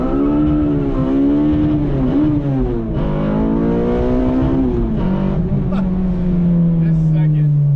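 A car engine revs hard in first gear on a highway, its note climbing in a few loud, close pulls with brief dips between shifts in throttle.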